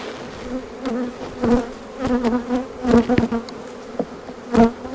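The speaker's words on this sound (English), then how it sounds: "They're just some wild bees that caught in Baton Rouge." Wild honey bees caught as a swarm buzz around an opened hive during an inspection, close and loud, with individual bees zipping past in repeated swelling passes.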